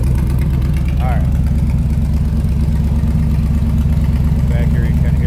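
A 1928 Ford Model A street rod idles steadily with its side exhaust, giving a constant, close, low rumble that stays even and moderate in loudness throughout.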